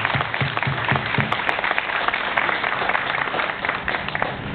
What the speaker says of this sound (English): And let's all give him a round of applause.